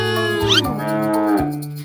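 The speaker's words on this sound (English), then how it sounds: "It's a cow. Moo, moo, moo." A cow moos in a children's song, one loud, close, drawn-out low moo that bends in pitch, heard alone.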